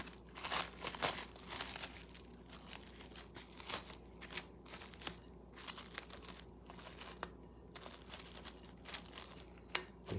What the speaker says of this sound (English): After mixing our batter, we must now put the plastic wrap back on.